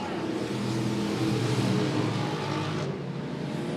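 Race cars at Monett Motor Speedway roar continuously around the track under green flag racing, several engines blending into a loud, steady drone that dips slightly near the end.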